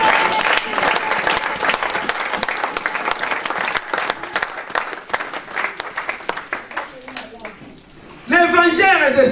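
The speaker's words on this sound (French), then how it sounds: "Est-ce qu'on peut acclamer cette vie?" A church congregation applauds and cheers in a dense, sustained wash of clapping and voices, thinning toward the end before a brief burst of bright, tonal sound closes it out.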